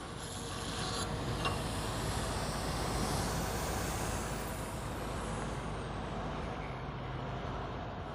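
A truck arrives to haul away excavated soil at a sandy dig site, a loud steady engine rumble with a short hiss of air brakes near the start, continuous and close throughout.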